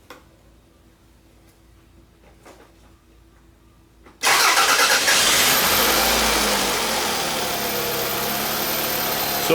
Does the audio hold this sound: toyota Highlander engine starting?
yes